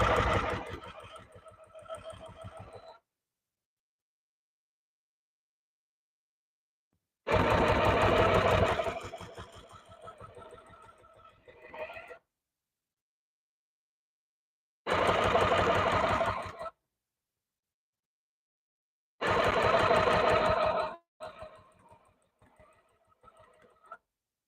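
A sewing machine stitches a rug in four loud, rapid bursts of rattling, each a few seconds long, with silent pauses between them. Softer clicks and handling follow some of the bursts.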